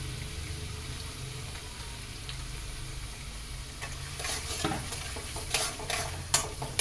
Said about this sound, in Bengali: চলুন, পেঁয়াজ কুচিটাও ভাজা হতে থাকে, একটু লাল করে ভাজা হোক।